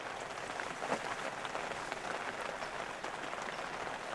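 Rain falls steadily on a stone wall in a rural farming village on Jeju Island, a dense even hiss with scattered drop taps and no voices.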